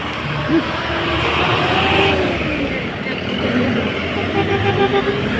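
Road traffic passing along a highway near a crowded shopping mall grand opening in Cagayan de Oro, a continuous engine rumble with a brief horn toot, heard close and loud, with voices mixed in.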